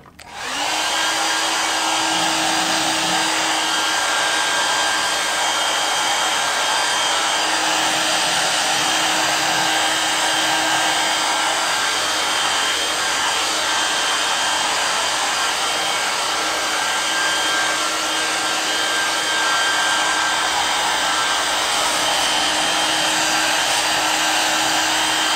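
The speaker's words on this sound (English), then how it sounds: "Now I'm going to take my trusty hair dryer." A handheld hair dryer blows hot air over freshly applied light and black paint on an art piece, a loud, steady whir running unbroken and close for the whole stretch, with no voices.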